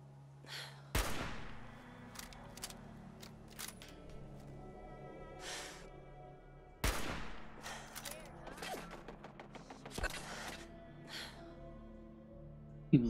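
Gunfire in Fallout 4: a few sharp broadband shots, notably near one and seven seconds and again around ten, scattered between quieter stretches of game ambience.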